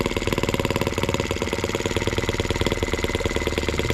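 A small engine runs on the restoration of a German showman's engine, chugging with a fast, even pulse of firing beats, close and steady throughout with no voices.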